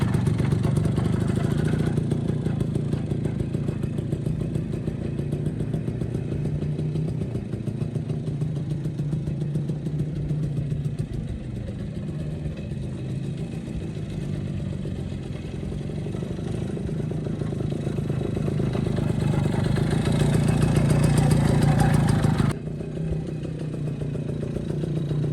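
A restored 1935 DKW SB200 motorcycle running with a steady mid-pitched two-stroke engine note and light mechanical clatter, rising slightly toward the end before suddenly dropping off, heard alone without talk.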